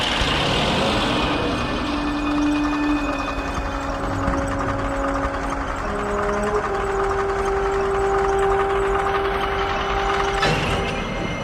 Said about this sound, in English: But our tank soon had engine trouble